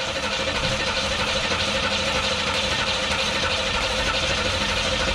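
An engine running at a steady idle right after its first start, a dense, constant rumble with even vibration throughout, close and loud with no break.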